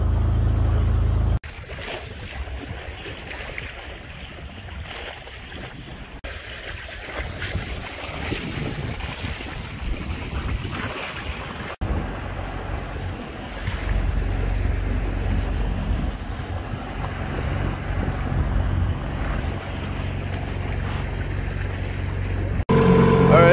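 Sailboat motoring under engine on open water near the Benjamin Islands, a steady low engine drone mixed with wind buffeting the microphone and waves washing past the hull throughout.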